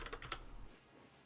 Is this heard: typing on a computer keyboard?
yes